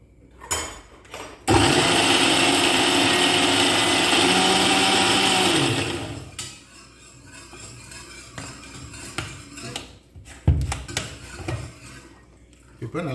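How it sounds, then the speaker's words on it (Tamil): A mixer grinder whirs loudly and steadily for about five seconds, grinding masala of green chilies, garlic and mint, then cuts off, leaving quieter kitchen clatter and handling noises. "இப்போது நம்ம அரைச்சி எடுத்துக்கலாம்."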